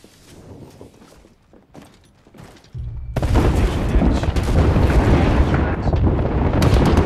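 An Arc Star grenade in Apex Legends detonating, a sudden loud crackling burst after scattered quieter shots, followed by sustained dense noise and gunfire.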